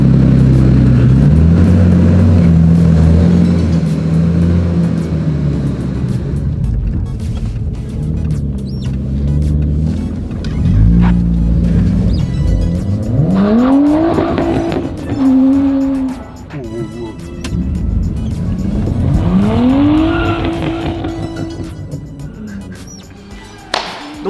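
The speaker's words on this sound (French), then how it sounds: "on vient de faire les tests avec la Skyline R33" A Nissan Skyline R33 with widened fenders revs repeatedly during a test run, its engine note sweeping up and down in several loud rising and falling pulls, with shifting road noise in between.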